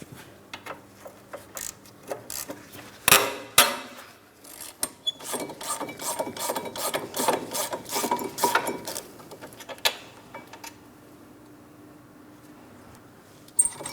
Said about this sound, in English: We'll take hold of the bracket so it does not fall down while we remove that mounting bolt.